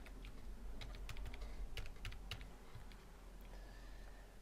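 Quick, faint clicking of keys on a computer keyboard as a word is typed, a short burst of light taps over a quiet background hum.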